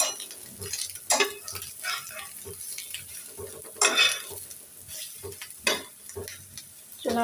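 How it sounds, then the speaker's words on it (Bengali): Eggs fry in a pan with a soft background sizzle, broken by repeated scraping and clinking of a utensil against the pan as they are stirred and turned. "অর্ধেক আমার আর অর্ধেক মোহনা রানীর ডিম ভাজা"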